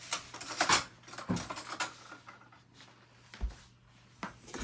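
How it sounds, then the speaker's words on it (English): A fork stirs a cup of sugar and a quarter cup of water for candy canes, giving soft scraping and light metallic clinks against the bowl in an uneven rhythm, quiet and close. "And then we're going to take a fork and mix it all together."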